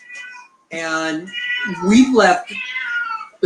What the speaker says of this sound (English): I'm sorry about the cats, you guys. It's feeding time.